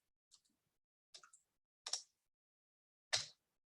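A few sparse, crisp keyboard clicks as code is typed, tapped out at uneven intervals, keys pressed one at a time, quiet and close with silence between.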